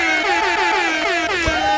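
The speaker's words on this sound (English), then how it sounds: "The air horn." A loud, blaring air horn sound effect plays on a livestream. The horn blasts continuously with wavering pitch sweeps for nearly two seconds.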